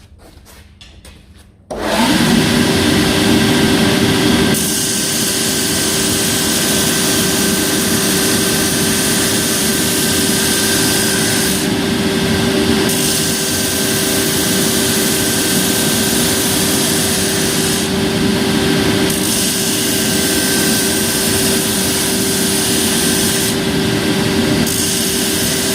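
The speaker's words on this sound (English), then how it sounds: "I'm just going to grind these up a little bit, thin them out a little bit more, put a bit of a bevel on ends" A bench grinder works forged blacksmith tongs, thinning them and beveling the ends, starting after a short quiet moment as a loud, steady, close whine and hiss with no talk.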